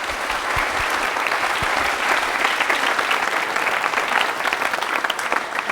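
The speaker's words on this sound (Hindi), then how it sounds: "भाई निखिल के लिए फिर एक बार तालियां जोरदार हो जाएं" Sustained audience applause at a televised quiz show taping in Jaipur, dense and steady throughout, fairly loud and close, with no voices over it.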